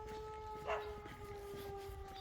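Civil defense warning sirens wail across a small town, a faint, distant, steady two-tone drone holding for the whole moment with no one speaking.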